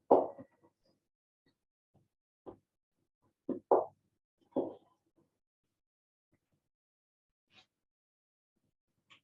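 A bag of spices being bashed in a pot of red cabbage and beetroot chutney: a few short, dull thuds in quick succession, close and fairly loud, then long quiet stretches with a couple of faint taps.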